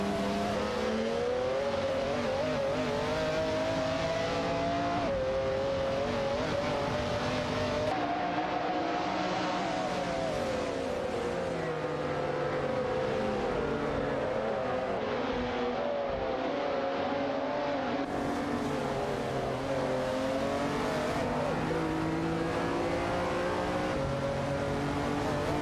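Race cars in a video game roar past one another with engines revving and shifting pitch through gear changes. The sound is loud, unbroken and without talk.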